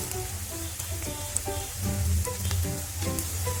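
Bread slices fry in hot oil for bread halwa, giving a steady, close crackling sizzle with scattered pops throughout and no talking.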